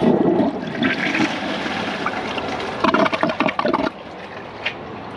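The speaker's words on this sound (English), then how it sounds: "The next thing we're flushing is this." A 1998 Ingenium toilet flushes a microfiber towel, a loud close rush of water that surges, gurgles with a burst of choppy splashing midway, then fades to a quieter refill trickle.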